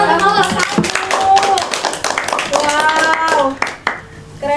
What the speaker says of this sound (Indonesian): Tepuk tangan untuk kamu.